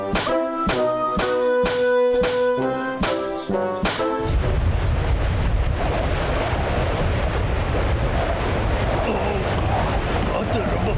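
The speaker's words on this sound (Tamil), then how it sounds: "காத்து ரொம்ப பலமா வீசுது." Strong wind roars in a Boonie Bears Tamil cartoon scene, a loud continuous rushing blast that takes over after a short burst of plucked music and fills the rest of the clip.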